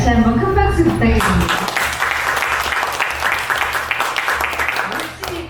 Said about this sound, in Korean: 신현수 선생님께 다시 한번 큰 박수 부탁드립니다